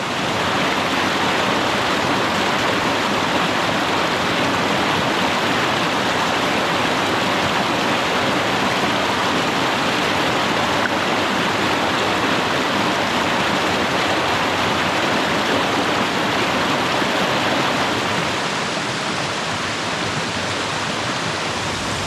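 A mountain creek in eastern Tennessee woods rushes steadily with a loud, dense, unbroken wash of flowing water that holds constant throughout, with no voices.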